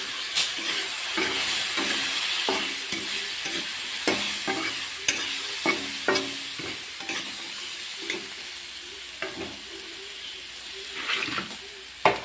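Chickpeas are fried and stirred in a pan: steady sizzling hiss broken by repeated scraping strokes of the spatula, close and fairly loud.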